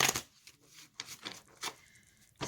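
A deck of tarot cards is shuffled by hand in a series of quick riffling bursts separated by short pauses, close and fairly quiet, with no talking.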